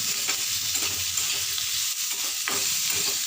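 Bitter gourd, boiled beforehand with turmeric, goes into a hot pan and is stirred, producing a continuous loud sizzle with a few scraping stir strokes close by.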